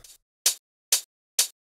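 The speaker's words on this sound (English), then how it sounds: "on the second part of the drop, I have this closed hi-hat" Four crisp closed hi-hat hits in an electronic drop, evenly spaced and bright, isolated with silence between each tick.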